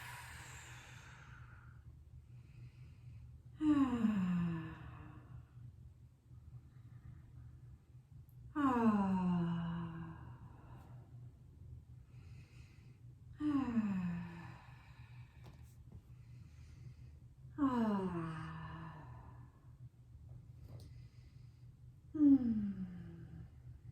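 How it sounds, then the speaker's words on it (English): Deep breaths during a quad and hip stretching exercise, five slow, audible sighing exhales spaced several seconds apart, close to the mic over quiet background hum. "And breathe."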